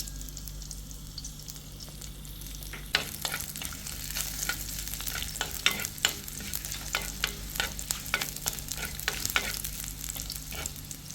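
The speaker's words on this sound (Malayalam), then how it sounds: "ചൂടാകുമ്പോൾ ഇനി കടു പൊട്ടിക്കാം ചൂടായ എണ്ണയിലേക്ക് കടുക് ചേർത്ത് കൊടുത്തിട്ടുണ്ട്" Mustard seeds, shallots and dried red chillies fry in hot oil, a steady close sizzle punctuated by a quick series of sharp pops and crackles from the bursting seeds.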